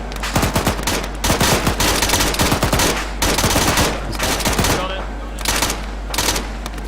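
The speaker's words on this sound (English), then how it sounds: "More shots. Shots from right, shots from right." Gunfire in a video game: repeated bursts of rapid automatic shots, loud and close, in clusters broken by brief pauses, with a voice briefly talking over them.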